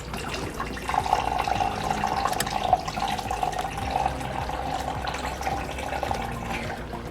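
Water pours steadily into a container for several seconds, a smooth continuous trickle close by with no talking.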